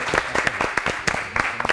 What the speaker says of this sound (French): Est-ce qu'on peut applaudir Flamby et Bayline, s'il vous plaît?